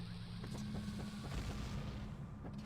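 Bombs exploding in the Zelda: Ocarina of Time video game: a series of dull, muffled booms in the first half, over steady game music and hum.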